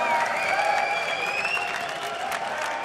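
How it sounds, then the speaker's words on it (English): A large esports crowd at a League of Legends match applauds steadily, a dense wash of clapping with some faint cheering mixed in, fading slightly toward the end. "And an applause from the crowd"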